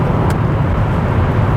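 Volvo C30 with a six-speed gearbox, engine droning steadily at around 3,500 rpm under load, a constant loud low rumble with road noise inside the cabin.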